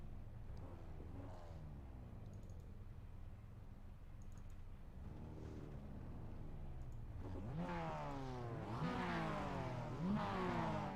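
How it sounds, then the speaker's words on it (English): Mazda MX5 race cars on the starting grid at Oulton Park, their engines idling and revving, quiet and distant at first, then rising in repeated, louder revving bursts toward the end. "the revs are beginning to rise just a tiny bit, but we're still waiting for everyone to jump on in"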